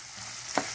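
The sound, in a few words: onions frying in a pan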